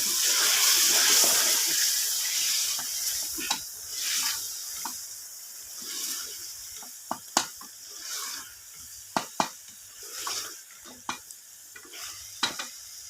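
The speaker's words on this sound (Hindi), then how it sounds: "यहाँ पे मैं थोड़ा सा पानी डालूँगी, ये मसाला हमारा नीचे ना लगे" Stirring and sizzling in a pan as water is poured into frying masala, liquid bubbling, punctuated by sharp clinks of a spoon against the pot.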